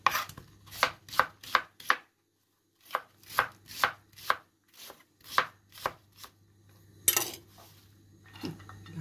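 Onion being chopped with a knife on a board for a vegetable lentil soup, a quick run of crisp, rhythmic knife taps close by, pausing briefly then resuming in bursts, with no talking.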